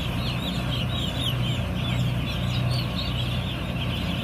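A dense chorus of broiler chicks cheeps continuously inside a modern brooding house during vaccination, with a steady ventilation hum underneath and no pauses.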